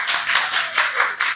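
A few people clap in a brief, uneven patter at a graphic design lecture at PNCA in Portland, close and fairly loud, with no voices over it.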